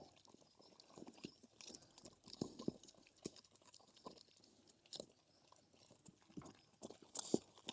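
Pigs chewing food near the recorder, quiet irregular crunching and munching bites scattered throughout, soft and close with no talk.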